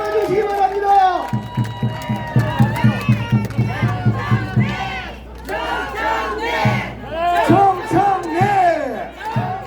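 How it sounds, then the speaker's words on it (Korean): A large crowd at an outdoor presidential election campaign launch rally in front of the old provincial hall plaza in Gwangju roars and cheers in loud, rhythmic bursts. A voice over the loudspeakers and chanting mix in. "여러분 함성의 박수로 맞아주시기 바랍니다"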